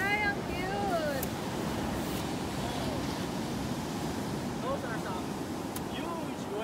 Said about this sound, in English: some huge waves, bro